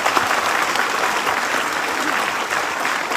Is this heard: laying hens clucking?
no